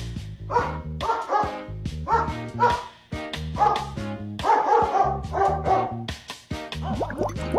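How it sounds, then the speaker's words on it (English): A dog barks repeatedly in short, loud, evenly spaced bursts, close by and alone with no talk. "This is a dog."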